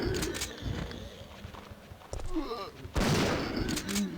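Shotgun blasts in Resident Evil 3: Nemesis, several heavy booming shots spaced a second or so apart amid other game noises, with a voice talking alongside.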